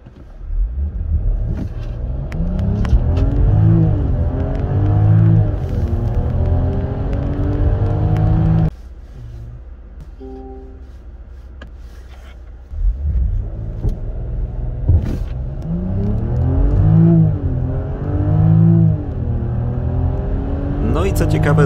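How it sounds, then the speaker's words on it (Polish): A Jaguar F-Pace P400 with its 400-horsepower 3-litre inline-six revs hard through repeated upshifts, then eases to a quiet lull before climbing again, loud and close with talk over parts of it. "Silnik P400, który my mamy aktualnie w naszej testówce, posiada moc 400 koni i prawie 550 Nm"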